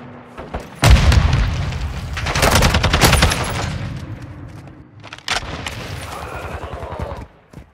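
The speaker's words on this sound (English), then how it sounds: "Throwing grenade!" Grenade blast and rapid gunfire in the video game Call of Duty Modern Warfare II, a heavy boom followed by sustained loud automatic fire with a second burst of shots later, no talking.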